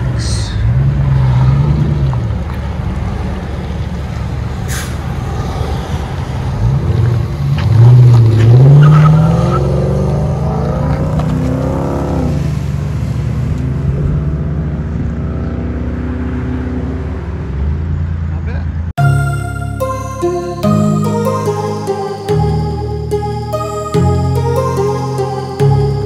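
A loud 2011 Dodge Charger R/T HEMI V8 with Flowmaster Flow FX dual exhaust revs and roars with tire squeals, rising and falling in pitch, then music takes over for the last several seconds.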